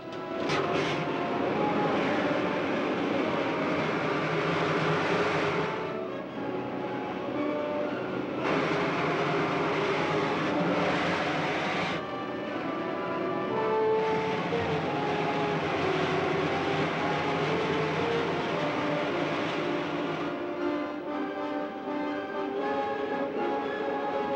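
Rocket ship firing its main jets on a flight to the moon, heard as a loud, steady roaring rumble with shifting whine-like tones, continuous for the whole stretch with no talking.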